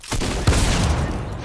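Video game gunfire crackles in a quick burst, loud and close, with one sharper heavy shot punching through just under half a second in, then a dense tail of rapid shots.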